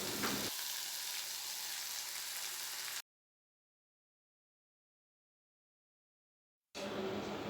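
Ground spice paste frying on a low flame, with cloves, peppercorns and cardamom for an egg korma, gives a steady, close hiss for about three seconds, then cuts out into a long silence before the sizzle returns briefly.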